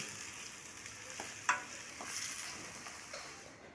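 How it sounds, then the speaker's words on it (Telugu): Onions fry in hot oil in a kadai with a continuous soft sizzle, quiet and steady, broken by a light stir or tap of a spoon. "ఆయిల్ హీట్ అయ్యాక ఆనియన్స్ వేసుకోవాలి ఆనియన్స్ని గోల్డెన్ బ్రౌన్ వచ్చే వరకు ఫ్రై చేసుకోవాలి"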